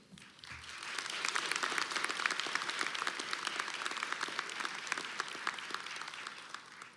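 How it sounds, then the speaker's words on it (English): A full audience applauds at a college of health professions undergraduate graduation ceremony, dense steady clapping that swells in within the first second and holds evenly loud throughout. "please join me in a round of applause to thank everyone who has helped you"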